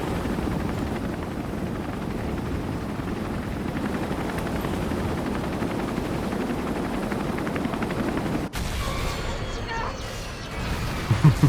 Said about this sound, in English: Time for the helicopter.